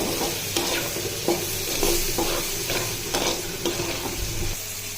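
Prawns being stir-fried in a pan for banana flower bhaji, a close sizzle broken by repeated rhythmic scrapes and knocks of the spatula.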